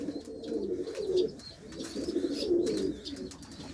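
Pigeons coo inside a coop being cleaned, giving soft, low, rolling burbles in two or three close waves with faint chirps and rustling in the background.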